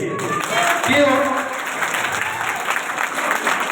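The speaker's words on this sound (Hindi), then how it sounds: "पीछे से लेकर आगे तक तालियां बजनी चाहिए" A lecture audience claps, a dense wash of applause running steadily throughout with a voice speaking over it.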